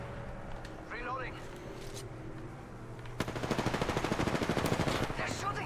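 Gunfire in Apex Legends, a few scattered shots followed by a sustained rapid automatic burst in the second half, loud and close.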